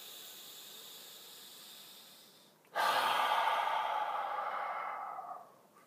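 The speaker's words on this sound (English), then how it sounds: "Slow your breathing down." Slow, deep breathing heard alone and close: a quiet drawn-out inhale, then a louder, longer breathy exhale lasting a few seconds before it fades, with no talking.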